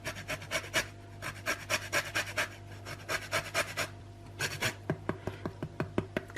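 A lemon scraped against a zester, making quick rhythmic rasping strokes, close and fairly quiet, in a rapid run, a brief pause, then a few more strokes.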